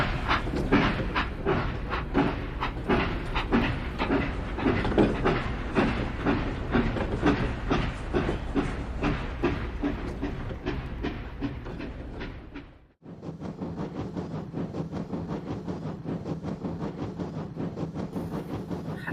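A train travelling on rails with steady rhythmic clickety-clack over the joints, loud and continuous, then the sound shifts abruptly to a smoother, lower rumble, with no voices.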